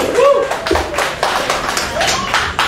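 An audience clapping at a public discussion event, irregular bursts of handclaps mixed with voices and a few shouts, fairly close and lively.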